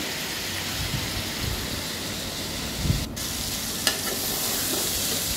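Flat beans and potatoes sauté in a pan: a continuous close sizzle with soft stirring and scraping, a couple of sharper clinks, and no one talking.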